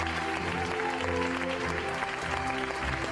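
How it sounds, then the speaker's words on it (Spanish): Applause from an audience at a mental health network gathering, a steady dense wash of clapping over what sounds like background music, with no speech. "¡Un fuerte aplauso para ella!"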